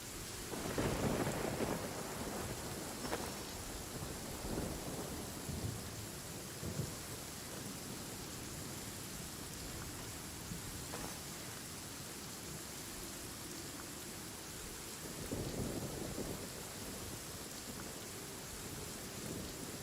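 A heavy downpour and thunderstorm in the Genshin Impact game, with dense steady rain hiss throughout and low rolling thunder swelling near the start and again toward the end.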